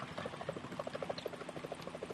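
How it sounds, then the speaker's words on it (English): A helicopter in the game Metal Gear Solid 2, its rotor thumping in a fast steady rhythm at moderate distance, a continuous chopping drone. "Is that a chopper I just heard?"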